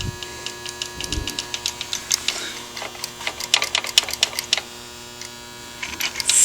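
An old engine with very black oil turned over slowly by hand at its flywheel, giving a run of close, uneven mechanical clicks and knocks from moving rods over a low steady hum.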